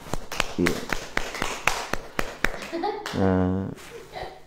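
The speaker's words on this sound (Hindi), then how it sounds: "ताली बजाए इसको" A person claps at a steady, quick pace during a Christian prayer gathering, about a dozen sharp, close claps, followed by a short vocal sound at the end.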